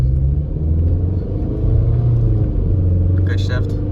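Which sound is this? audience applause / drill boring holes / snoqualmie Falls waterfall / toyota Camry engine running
toyota Camry engine running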